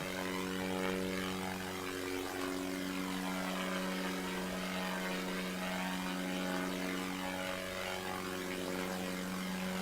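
Steady propeller airplane engine drone in the Simple Planes flight game, a continuous even hum with a constant pitch held throughout, moderately loud and without talk.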